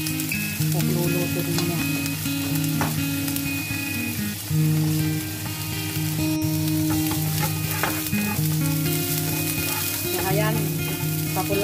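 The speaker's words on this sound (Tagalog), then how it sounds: "papulahin lang natin yung sibuyas, luya at bawang mga ka-angels" Onion, ginger and garlic crackle and sizzle loudly in a pan while being stirred for a Chinese-style red snapper dish, a continuous close frying hiss with a low hum underneath and a voice briefly talking over it.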